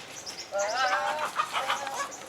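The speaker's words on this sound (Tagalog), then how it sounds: "Mga manok." Several chickens clucking and squawking close by, a busy overlapping chatter of hens with no talking.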